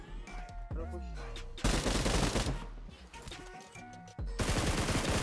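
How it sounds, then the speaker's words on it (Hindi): Gunfire in a mobile battle video game crackles in rapid, loud bursts and sharp reports, mixed with in-game effect tones and busy clatter. "शॉट गन से मारता मुझे यार"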